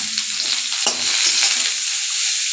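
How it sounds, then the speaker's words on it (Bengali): Beetroot sizzles steadily in hot oil in a pan for a vegetarian dish, with a scrape and clatter of a stirring spoon near the start. The hiss continues close and even, with no voices. "বিটটা আমি এবার অল্প আগে সুন্দর ভাজা করব"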